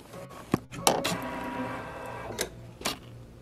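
A Baby Lock Solaris Vision embroidery machine advances its fabric: a quiet, steady mechanical whir punctuated by a few sharp clicks and knocks near the start and end.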